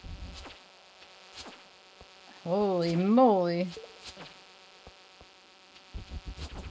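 Flying insect enemy in the video game Stardew Valley makes one loud buzz of about a second that wavers up and down in pitch, with scattered game clicks around it and a brief spoken exclamation.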